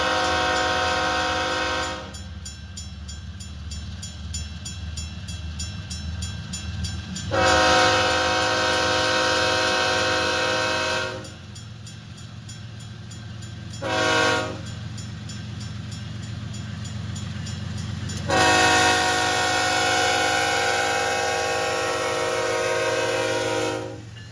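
Westbound freight train passing through South Amana, Iowa, heading toward Council Bluffs: a steady low rumble of rolling cars throughout, broken by several loud, sustained horn blasts of varying length, one short, close by and outdoors.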